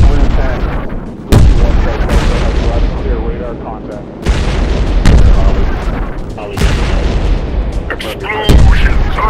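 Explosions in the jet fighter game Modern Jet Fighter / Combat Air Jet, flying an Egyptian MiG-21, land as loud, repeated booms of artillery and gunfire, several sharp blasts over continuous roaring combat noise with voices talking.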